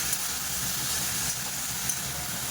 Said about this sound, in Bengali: এখানে ফুলকপিটা ভাজতে দিয়েছি।